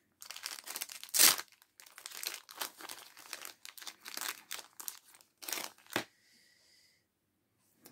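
A small packaged charm with a hanging ring is opened by hand, giving a run of close, crisp plastic crinkling and tearing bursts with one sharper rip, then near silence.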